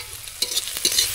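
Tomatoes fry in a pan for a fish curry, a soft sizzle broken by two or three quick scraping stirs, close and brief.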